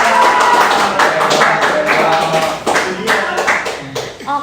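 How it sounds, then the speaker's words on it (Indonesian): Studio audience clapping for a guest on an Indonesian talk show, a loud, close burst of many hands with uneven, rapid claps and some voices mixed in throughout. "boleh tepuk tangan dulu dong."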